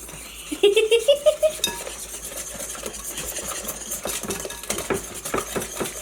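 Cheesecake mix is stirred by hand in a bowl, with a utensil clinking and scraping in quick rhythmic strokes, close and fairly loud, with no talking.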